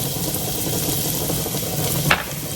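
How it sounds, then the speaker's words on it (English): Garlic and red pepper flakes sauté in a pan with a steady, close sizzle, and a single brief scrape or clink sounds near the end. "Go in with some garlic. Get that sauteed. Red pepper flakes."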